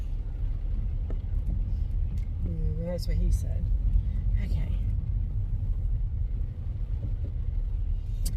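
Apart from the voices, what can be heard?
big truck rumbling past a car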